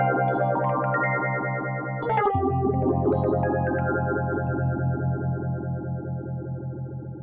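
Virtuscape Rhodecase88 electric piano with a phaser effect playing sustained chords, close and steady, with a sweeping, pulsing swirl and no talk.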